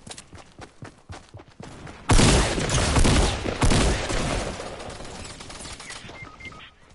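A sudden heavy volley of gunfire in a video game squad match cuts in after a run of sparse clicks and taps, staying loud and dense for a couple of seconds, then easing into scattered shots and fading rattle.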